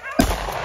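A single sharp shotgun blast cracks out nearby during a swamp rabbit and duck hunt, followed by a brief decaying rumble.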